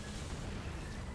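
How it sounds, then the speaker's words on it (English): Explosions in a video game thud and rumble continuously, a dense low booming wash at moderate level with no talk over it. "Something very satisfying about just hearing the explosions."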